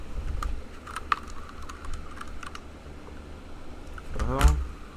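Computer keyboard keys tapped in scattered clicks during a casual livestream, fairly faint under steady room noise, with a louder burst of sound near the end.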